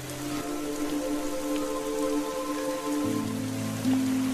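Steady rain falling at night, an even hiss of drops on surfaces, with a low tonal hum running underneath throughout.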